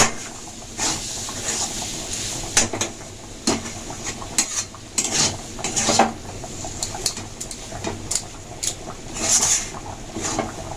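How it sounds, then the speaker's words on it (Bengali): Teasel gourd being stirred in a pan over lowered heat: soft sizzling under repeated scraping and clinking of a utensil against the pan, irregular strokes at close range with no talking. "ভালোভাবে নেড়ে নিতে হবে।"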